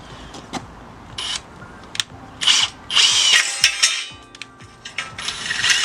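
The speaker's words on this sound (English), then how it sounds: "just drill a hole for each one side by side" A power drill bores holes for a Smitty Built roof top tent mount on a Jeep Grand Cherokee ZJ. It comes in several loud, close bursts of high whirring, with small metallic clinks between them.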